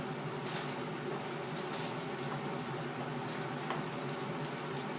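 Steady sizzling of a cheese quesadilla in a hot pan, a constant crackling hiss with faint pops, with no voices.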